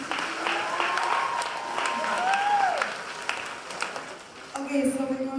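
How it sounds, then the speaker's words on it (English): Audience applause at a student leadership conference, a steady wash of clapping from a crowd that swells and fades over several seconds, with a voice talking over it and a brief tonal chirp near the end. "y'all give it y'all one more round of applause."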